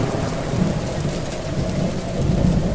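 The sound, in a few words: thunderstorm sound effect with heavy rain and thunder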